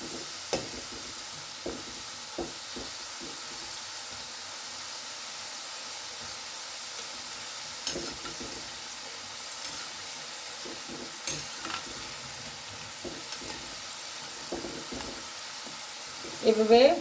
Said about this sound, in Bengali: এভাবে উল্টে পাল্টে আমি লাল লাল করে ভেজে আবার দেখাবো।